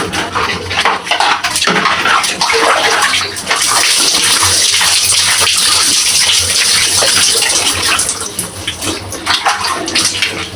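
Water gushing and splashing continuously at close range as a spicy face product is rinsed off during a bath, loud and steady with no voices.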